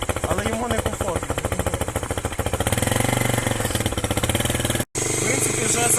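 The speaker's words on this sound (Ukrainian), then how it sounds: "я трошки накрутив більше оборотів, щоб він скоріше прогрівся" Loncin Pruss motorcycle engine held at raised revs to warm up in snowy winter, a close, loud, rapid rhythmic single-cylinder putter that climbs slightly in pitch, with a brief cut near the end and someone talking over it.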